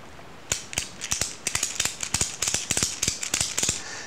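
A ratchet strap being cranked through its ratcheting mechanism while cinching down batteries in a Chevy Colorado dual-battery setup, giving a rapid series of sharp clicking ratchet bursts, close and fairly loud, with no talking.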